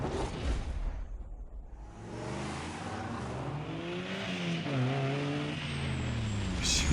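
Mazda RX-8 race car in Need For Speed Most Wanted, its rotary engine rising and falling through several revving pulls after a brief rushing burst, loud and close.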